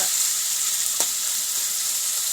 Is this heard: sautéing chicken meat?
yes